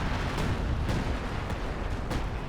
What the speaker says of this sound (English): You have a precision bombing strike coming in, so this should do a lot of damage